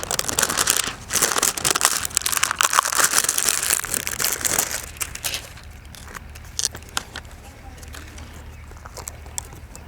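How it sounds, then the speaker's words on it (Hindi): Close crinkling and rustling of a thin plastic film wrapper as it is pulled open on a packet of yellow sticky insect traps, loud at first and then thinning to sparse crackles. "इसको ये खोलते हैं हम, ये पन्नी आती है ऊपर से इस पैकेट के"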